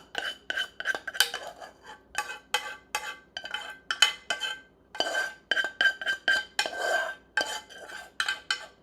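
A metal spoon scraping and clinking against a nonstick pan of oatmeal, repeated rhythmic scrapes and taps close up, with no one talking.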